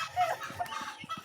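Backyard pet chickens clucking in a short morning burst, several soft repeated clucks close by with a faint higher call over a quiet outdoor background.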